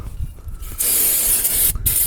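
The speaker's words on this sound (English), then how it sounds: "So take your brake parts cleaner," Brake parts cleaner sprayed onto the brake rotor of an Acura MDX/Honda Odyssey, a loud, close aerosol hiss in two sustained bursts separated by a brief pause, with faint handling noises before the first burst.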